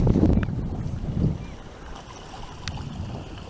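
A sailboat moving in a breeze through a narrow pass toward Stuart Island, with steady wind rush and water washing against the hull, a bit stronger at the start and then settling into a softer, even wash.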